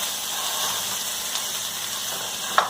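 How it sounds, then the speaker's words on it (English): Ground beef sizzles in hot oil in a pan, giving a steady close-up hiss with a sharp crackle near the end. "I'm just going to add our ground beef and start really, hear that sizzle?"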